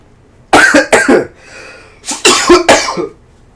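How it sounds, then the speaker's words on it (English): Several harsh coughs come in two clusters, close and loud, with a short breathy pause between them. "my efforts to make my cough silenter made it louder"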